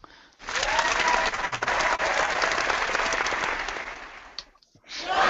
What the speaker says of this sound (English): Lots of applause today.